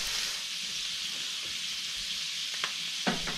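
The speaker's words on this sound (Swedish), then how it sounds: "Nu steker jag upp lite svamp." Mushrooms fry in a pot on a wood-burning stove, giving a steady close sizzle with a couple of sharp clinks from stirring near the end.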